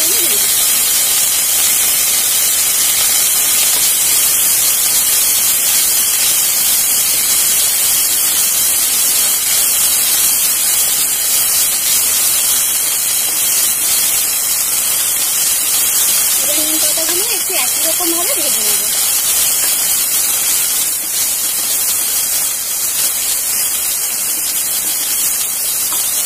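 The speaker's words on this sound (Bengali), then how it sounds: "এবার এর মধ্যে আরো সামান্য একটু তেল দিয়ে নিলাম, দিয়ে এর মধ্যে নিম পাতা দিয়ে দিলাম" Neem leaves frying in oil in a pan: a loud, steady sizzling hiss that runs unbroken throughout, close and dense.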